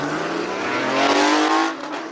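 A Porsche 993 launches off the start line at a Cape Town hill climb, its engine rising in a loud, close rev with a climbing harmonic whine that peaks and then eases slightly as the car pulls away.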